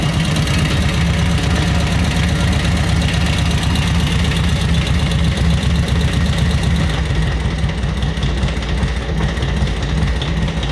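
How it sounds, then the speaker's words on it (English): A 1942 Harley-Davidson WLA military motorcycle engine idles close by, a loud, heavy, rapid lumpy thumping with a steady mechanical rattle that continues without a break and with no voices over it. "What a machine. 1942 Harley-Davidson WLA"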